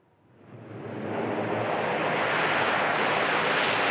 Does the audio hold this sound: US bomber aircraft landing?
yes